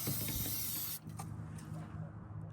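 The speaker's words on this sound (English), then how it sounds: "get some of the K&N oil, just spray down here in the bottom." K&N air filter oil sprayed from an aerosol can onto the bottom of an air filter housing: one steady, close hiss lasting about a second, then quiet.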